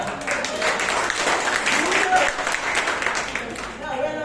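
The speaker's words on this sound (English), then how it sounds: "Give yourself a clap" Audience clapping at a confidence seminar, a dense round of applause mixed with crowd voices and cheers that holds for several seconds before fading.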